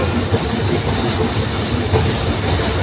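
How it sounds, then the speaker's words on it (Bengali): A train crosses the Jamuna (Bangabandhu) multipurpose bridge at night, its steady rumbling roar and faint clickety-clack filling the air continuously and loud throughout. "পাশে ট্রেন চলছে ট্রেন যাচ্ছে"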